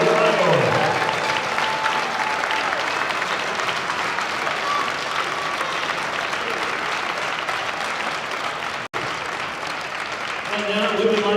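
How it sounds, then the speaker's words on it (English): Sustained applause at a Pan American Games qualifier tournament ceremony honouring the Canadian and USA teams, a dense, steady clapping crowd with a brief cut near the end and a voice resuming over it. "a round of applause for the Canadian and USA teams heading"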